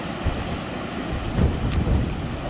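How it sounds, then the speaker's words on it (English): Ocean waves surge against a dark lava rock sea arch and cliff on the Hawaiian coast. Wind roars steadily across the microphone while a few low thumps and washes of surf break through. "I saw the waves"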